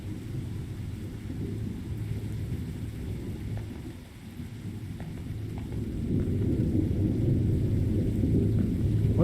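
Rain and thunder in the game Signal Simulator make a deep, steady rumble under a soft wash of rainfall, dipping briefly midway before swelling louder toward the end, with no talking.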